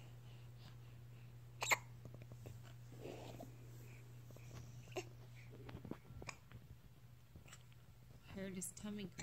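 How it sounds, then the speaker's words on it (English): A baby's hiccups, a few brief, soft hics scattered through a quiet indoor recording with low hum, with an adult talking softly over part of it. "Those are some hiccups"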